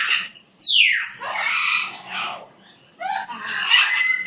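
Pet parrot named Buttons lets out loud, close squawks and screeching whistles in two bursts separated by a brief quieter gap.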